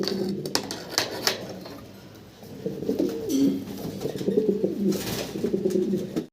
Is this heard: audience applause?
no